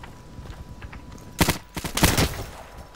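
Gunfire in the video game Insurgency during a co-op checkpoint siege, a few sharp shots followed by a quick burst of rapid fire over low background game noise, with no talk.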